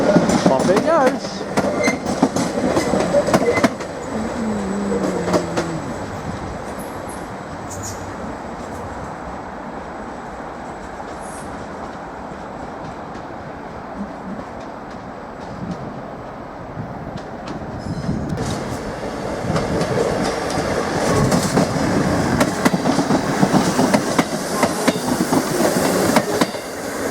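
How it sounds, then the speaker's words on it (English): A British Rail Class 755 unit pulls out of platform 5 at Norwich station, its rumble and wheel noise steady and fairly loud, swelling toward the end amid station ambience. "755325 has departed out of platform 5. Working the 1545 service to Sheringham."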